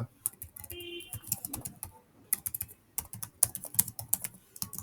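Someone types code on a computer keyboard in quick irregular bursts of close, crisp key clicks with short pauses, with a faint birdlike coo in the background.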